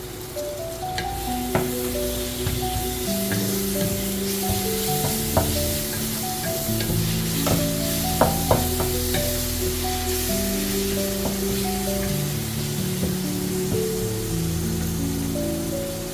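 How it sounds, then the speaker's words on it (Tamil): Tomato and green chilli stirred and fried in a pan for ghee rice, with a soft continuous sizzle and occasional light utensil taps, close, beneath steady background music. "அப்படியே தக்காளி, பச்சை மிளகாய் அதையும் ஆட் பண்ணி கொஞ்ச நேரம் நல்லா கிண்டி விட்டுக்கலாம்."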